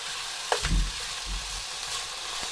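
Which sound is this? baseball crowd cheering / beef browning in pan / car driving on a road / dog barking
beef browning in pan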